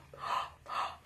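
Two quick, sharp breaths drawn in around a drinking straw held loosely at the lips, each a breathy hiss about half a second apart, close and clear.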